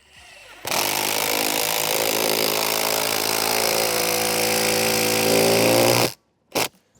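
Power tool driving a lag bolt down through a solar L foot, one loud continuous whirring drive of about five seconds that stops abruptly, followed by a brief second burst.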